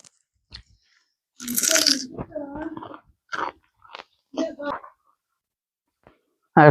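Wet crunching and chewing of dates in bursts close up, with a muffled voice speaking between mouthfuls.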